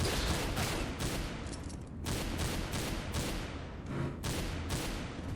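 Rapid gunfire in a Counter-Strike: Global Offensive co-op heist map, dense repeated shots in close succession forming a continuous loud barrage with brief gaps.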